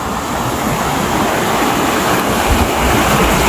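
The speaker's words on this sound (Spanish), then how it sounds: "Este ya se podría considerar un riachuelo, no es un río grande, pero pues hay bastante flujo de agua" Small stream of flowing water in a rural spot near a bridge, a steady, dense rushing wash with no pauses, fairly loud and close.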